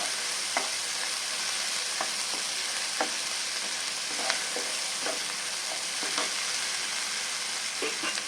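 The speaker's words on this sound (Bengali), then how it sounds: "আমার মশলাটা কষানো হয়ে গেছে মশলা তেল ছেড়ে দিচ্ছি" Masala paste fries in oil that has begun to separate, a steady close sizzle with regular scrapes and taps of a stirring spoon every second or so.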